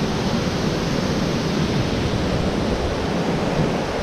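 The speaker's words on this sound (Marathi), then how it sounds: "पाण्याचा आवाज खूप जास्त आहे इथे" Rushing water of the Vanlakshmi waterfall at Pashane village after rain, a dense, steady roar that fills the whole moment without pause or voices.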